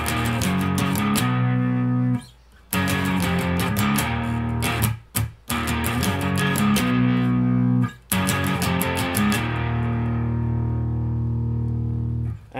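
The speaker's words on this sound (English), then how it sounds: "And then they do the whole palm mute." Heavily distorted electric guitar plays a palm-muted riff in chugging, tightly muted bursts separated by brief gaps, ending on a sustained ringing chord, loud and alone with no talking.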